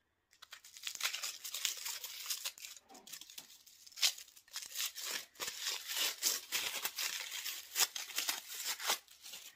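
Foil wrapping is torn and crinkled off a craft beer can from an advent calendar, a steady run of close, crisp ripping and crumpling bursts lasting several seconds.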